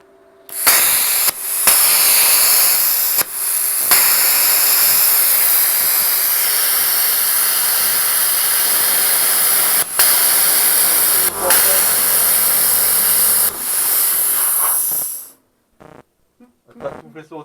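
A 50ST plasma cutter slices through 22 mm of steel with 6 mm of stainless, a loud continuous roaring hiss broken by brief cutoffs and restarts, then it stops and goes quiet.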